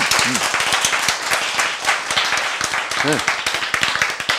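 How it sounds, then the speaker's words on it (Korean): An audience claps together during a Korean lecture on healthy eating, a quick, loud run of sharp, close handclaps lasting a few seconds, with a voice speaking over them at times. "박수."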